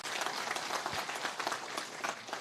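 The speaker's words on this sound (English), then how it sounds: "Another huge round of applause to the students." An audience at a project launch applauds the students with dense, continuous clapping that stays loud and steady throughout, with no voices over it.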